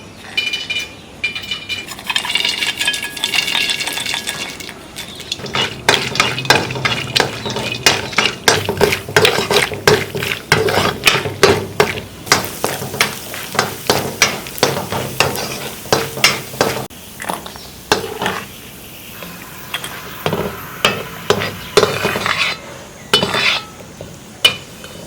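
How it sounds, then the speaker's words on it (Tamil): Cashews are broken and roasted in ghee for a large batch of kesari, with rhythmic scraping and stirring of a metal pan over a frying sizzle and occasional clinks. "நம்ம 150 கிராம் முந்திரி எடுத்திருக்கோம். அதை உடைச்சிட்டு நம்ம வந்து நெய்யில் வறுத்து எடுத்துக்கலாம்."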